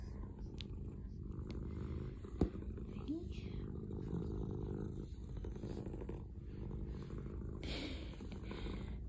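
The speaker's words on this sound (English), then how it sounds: "That's why we call you Happy Hank, because you just purr so easy" A shy cat purring on a lap while being patted: a steady, soft, continuous purr runs throughout, close and low, with quiet rustles and a faint click.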